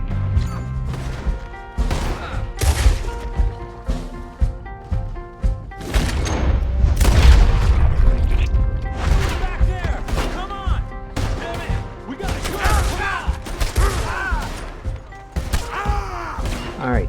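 Gunshots ring out in Red Dead Redemption 2 as a scatter of loud, sharp cracks and thuds, irregular and repeated, layered over game music and ambient clatter.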